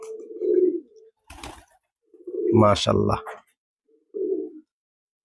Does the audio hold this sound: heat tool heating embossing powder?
no